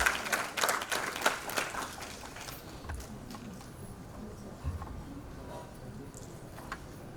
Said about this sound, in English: Let's put our hands together and give them both a round of applause.